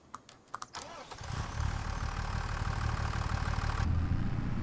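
A tractor engine in the video game Farming Simulator 2025 cranks with a few brief clicks, then starts and settles into a loud, steady, low rumbling idle close by.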